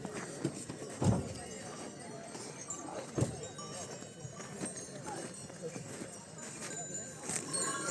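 Horses' hooves clip-clopping at a mountain village horse show, scattered irregular knocks under constant talk and crowd noise.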